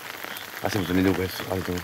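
Rain falls in Japan's Shigai forest, a soft continuous patter behind close conversation between people walking through the woods.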